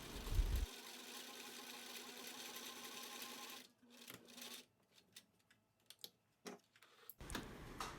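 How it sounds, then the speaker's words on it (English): A serger stitches along the curve of a cotton face mask, its rapid mechanical whir running steadily for a few seconds before breaking into short, irregular bursts of stitching and clicks, heard alone. "On a serger or straight stitch machine, sew along the curve, leaving a little bit of seam allowance."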